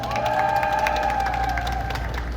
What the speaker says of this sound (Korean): 혹시 보신 분들 박수 한 번만 주시겠습니까?